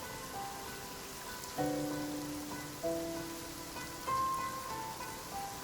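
Steady rain patters through a video game scene, a continuous wash under sustained musical tones that swell in three distinct notes, with no voices.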